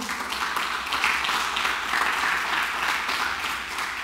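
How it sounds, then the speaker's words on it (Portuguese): A church congregation applauding, a dense, continuous wash of many hands clapping that holds steady throughout, fairly loud and diffuse as from a crowd in a large room. "Dá um aplauso ao Senhor então."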